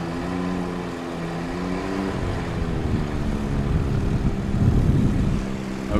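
At a STOL competition in St. Joseph, Missouri, a Badlands Vaquero STOL aircraft flies with its flaps down. The propeller engine drones steadily with a humming, slightly wavering tone that swells a little louder near the end.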